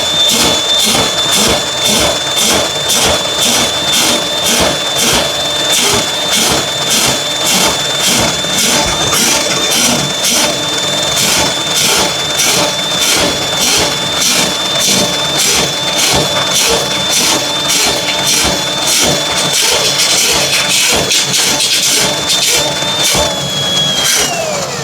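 A drain cleaning machine spins a 35-foot cable inside a greasy, lint-clogged laundry sink drain, producing a loud continuous motor whir with a fast, even rhythmic clatter that holds steady throughout.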